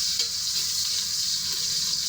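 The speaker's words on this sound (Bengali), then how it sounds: "আমি এখানে যে একটু পেঁয়াজ ভেজে নিচ্ছি" Onions fry in a pan with a steady, dense, close sizzling hiss and faint stirring underneath, holding even throughout.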